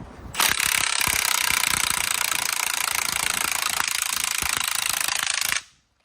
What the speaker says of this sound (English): The impact will help you get it spinning.